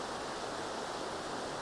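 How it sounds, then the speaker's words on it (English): Indian Creek Falls in the Great Smoky Mountains roars as a steady, dense wash of falling water, close and even with no pauses or voices. "This is Indian Creek Falls."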